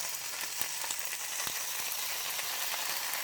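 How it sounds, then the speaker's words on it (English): Bacon strips frying without added oil in a non-stick pan, a steady close sizzle with light crackling pops throughout and no talk. "I'm going to start placing my bacon without oil because the bacon has fat."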